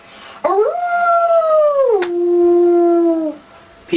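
A human voice imitates a wolf howling: one long, loud, close howl that holds steady, then drops lower and fades out.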